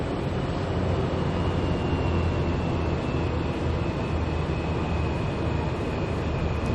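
Twin-engine Cessna F406 Caravan II turboprops in Microsoft Flight Simulator give a steady, dense cockpit drone with a faint high whine, holding an even roar throughout without any talk.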